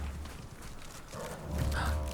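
Horse-drawn carriage in the video game Hogwarts Legacy, with soft hoof clip-clops and low rumble at a moderate level, fairly quiet throughout and swelling slightly near the end, with no talk over it.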